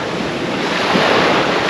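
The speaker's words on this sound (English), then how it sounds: "I mean, look at the sea." Sea waves washing onto the coast at Easington on the UK's east coast, a steady loud surf wash mixed with wind buffeting the microphone.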